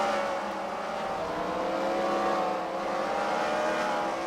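Race cars lapping at the Freedom Factory during a round-one heat, a loud continuous engine drone with overlapping revving tones that rise and fall as the pack runs together, heard from trackside.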